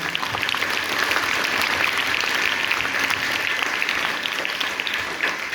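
A crowd at a school Independence Day event applauds steadily, dense continuous clapping that holds at an even level throughout without a break.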